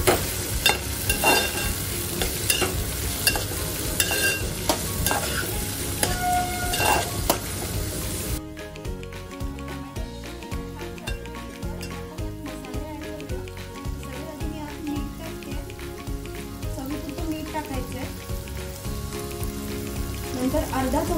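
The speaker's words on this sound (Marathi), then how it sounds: "इथे मी एक टमॅटो घेतलाय ज्याला एकदम बारीक चिरून घेतलंय आणि 2 ते 3 कोकमचे तुकडे घ्यायचे. छान परतून घ्यायचे." Finely chopped tomato and two or three kokum pieces sautéing in a pan for a dried shrimp and brinjal curry, a steady close sizzle and stirring throughout, louder in the first part and softer afterwards.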